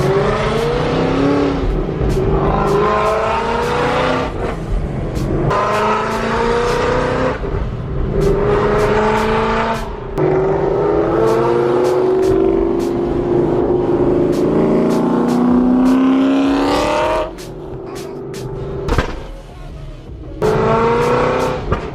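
A loud Ford Mustang roars close by while driving to a car meet, its engine rising and falling in repeated revving pulls between gear shifts, dominating without any talking.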